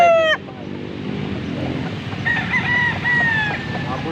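A full stag rooster crows loudly at a poultry market in Angeles, Pampanga, one long crow rising and holding over a noisy crowd, with another bird's brief call at the start.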